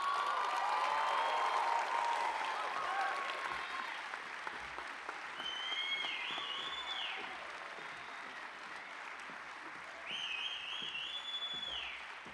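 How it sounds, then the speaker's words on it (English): A hall of fame ceremony crowd at the University of Illinois applauds and cheers loudly and steadily, with whoops and whistles rising over the dense clapping. "I love that you have your own cheering section. They're very rowdy."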